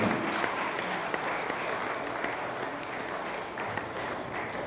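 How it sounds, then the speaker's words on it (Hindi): An audience applauds after a Kathak dance performance, with dense, steady clapping filling the whole stretch at even loudness and a faint murmur of the crowd underneath. "जोरदार तालियां बजनी चाहिए लोग"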